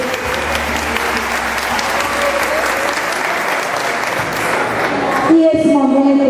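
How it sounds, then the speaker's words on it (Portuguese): Sustained applause from an audience at a popular-educators' holiday course session, steady and full for several seconds before fading into a different tonal ambience near the end. "Uma salva de palmas, agradecendo mais uma vez."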